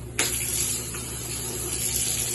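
Tap water gushing into a basin to rinse laundry, starting abruptly and then running as a steady, moderately faint splashing hiss with no talk.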